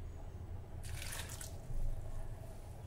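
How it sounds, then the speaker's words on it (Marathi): A cup of water splashes briefly into a pot of pineapple pieces, a short pour of under a second over steady low kitchen hum. "1 वाटीच मी पाणी घालणार आहे।"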